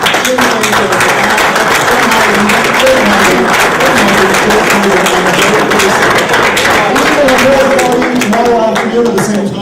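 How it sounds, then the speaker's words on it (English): An audience at an election debate on WLR FM gives the panel a sustained round of applause, with dense, steady clapping filling the room for about ten seconds at an even level. "can we have a round of applause for our panel today?"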